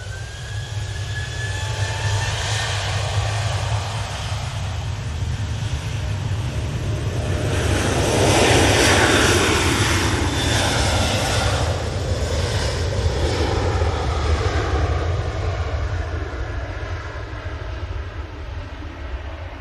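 An Emirates Airbus A380 jet taxiing, heard as a loud, steady broadband roar and rumble that swells around the middle and then holds, with no talk.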